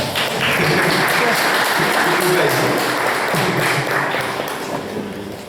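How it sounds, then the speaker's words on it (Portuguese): Church congregation applauding together in a sustained, loud, dense wash of clapping that holds steady and then eases off slightly toward the end. "Uma salva de palmas para o castiçal"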